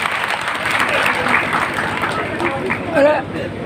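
A crowd at a village political gathering in Netharana, Rajasthan, gives loud, sustained applause that fills the whole stretch, with a murmur of voices running underneath.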